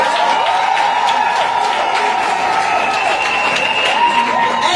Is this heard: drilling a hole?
no